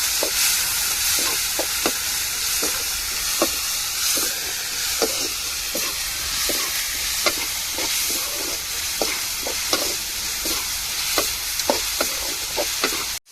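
Crushed ginger and garlic sautéing in a pan for a Tamil home-cooked meal, a steady loud sizzle with regular scraping taps of a ladle stirring throughout.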